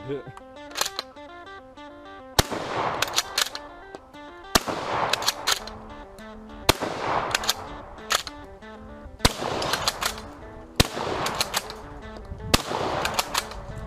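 A bolt-action shotgun fires in a video game: about six sharp, heavy blasts a couple of seconds apart, with mechanical cycling clicks between them, under a narrating voice.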